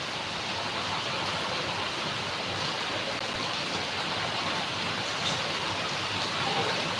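Heavy monsoon rain pours down in a steady, dense roar of broadband noise that stays constant and close with no talking.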